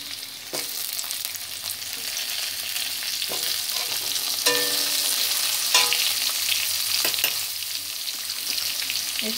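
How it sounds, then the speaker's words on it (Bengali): Potatoes fry in a pan alongside already-browned ginger for a ridge gourd curry. A steady, fairly quiet sizzle runs throughout, broken by occasional sharp clicks and scrapes of stirring. "এবার আমি আলুগুলো দিয়ে দিচ্ছি।"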